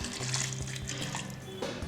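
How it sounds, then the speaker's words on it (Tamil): Water is poured into a wet grinder holding soaked urad dal, a soft continuous splashing and trickling close by for under two seconds. "தேவையான அளவு தண்ணி ஊற்றிக்கலாம்"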